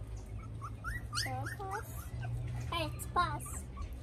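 Puppies whimper and yip in high, wavering cries against a steady low hum, with an adult voice calling to them and speaking over the whines.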